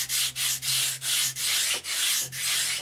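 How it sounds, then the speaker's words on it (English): A sanding block shapes a 45-degree bevel into the cut edge of a balsa wood aileron for a GWS Formosa RC plane. About eight even back-and-forth rasping strokes sound close and loud in a steady rhythm, with no talking. "I'm going to sand a 45-degree angle into the edge"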